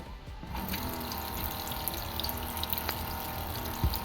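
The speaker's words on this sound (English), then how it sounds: "The faucet works with a simple tap on the top of it to turn it on," Water runs steadily from a touch-activated faucet into a sink inside a custom 7 x 14 toy hauler conversion, a close, even stream with a brief knock near the end.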